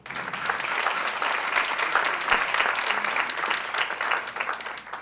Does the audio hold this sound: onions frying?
no